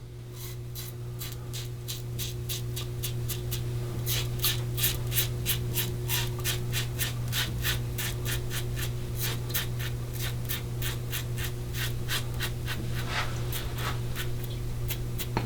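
A Fine Marvel safety razor shaves a chin close to the mic with rapid, rhythmic scratchy strokes of the blade over stubble. The strokes go on steadily above a constant low hum.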